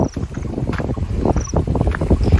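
Strong wind blows through an outdoor vegetable garden and buffets the microphone with a steady, loud, low rumble. No one speaks.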